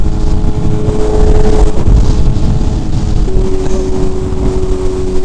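A superbike at a car meet accelerates hard in second gear with a loud, sustained engine roar and steady tonal drone. Wind buffeting runs underneath throughout.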